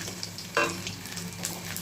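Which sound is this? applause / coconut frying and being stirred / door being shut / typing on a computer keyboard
coconut frying and being stirred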